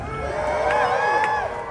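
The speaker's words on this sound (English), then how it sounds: "Oh my God, what a crowd, what a crowd." A large crowd at LA ComicCon roars and cheers continuously, with scattered whoops and shouts rising over a steady wash of noise.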